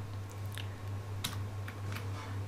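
Soft keystrokes tap on a computer keyboard while a command is entered for a Cisco router backup, a few scattered clicks over a low steady hum, close and quiet.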